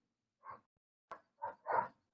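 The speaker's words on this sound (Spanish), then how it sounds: "los perros están alborotados" Dogs barking somewhere outdoors, three or four short yaps in quick succession, faint and fairly distant, with no voices during them.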